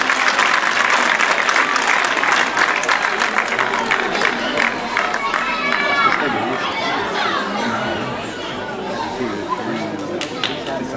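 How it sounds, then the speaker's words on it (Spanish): Audience at a school Christmas festival bursts into sustained, loud applause with steady crowd chatter and children's voices mixed in, gradually easing off toward the end. "Un fuerte aplauso."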